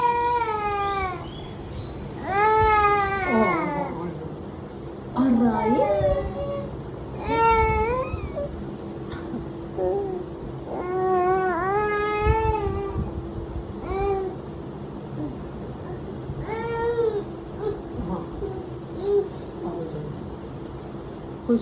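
A young child cries and wails in repeated rising sobs while being changed into a full-sleeve T-shirt at home, loud and close, with an adult's voice occasionally underneath.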